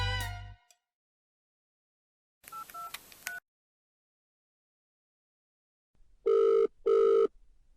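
A telephone rings during a call: a brief burst at the start, a short electronic ringing burst mid-clip, then two loud, even tonal rings near the end, each separated by silence, with no one talking.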